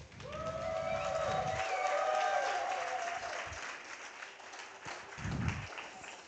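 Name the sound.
audience applause at a prompt battle event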